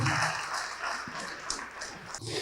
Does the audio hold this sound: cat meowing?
no